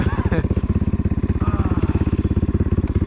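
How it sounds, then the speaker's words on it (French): A motorcycle engine idles close by with a steady, rapid rhythmic putter, continuous and fairly loud throughout. "d'entendre le ronronnement complet de la moto"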